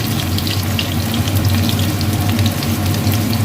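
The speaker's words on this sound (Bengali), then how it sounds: "এখানে আমি পেঁয়াজ বেস্তাগুলো হালকা লাল লাল করে ভেজে নেব" Sliced onions fry in a pan with a loud, dense, continuous sizzle under a low steady hum, close up and unbroken.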